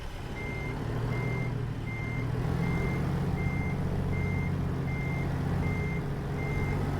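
In American Truck Simulator, a semi truck backs a trailer in with a steady, evenly spaced reversing beep repeating over a loud, continuous low diesel engine rumble.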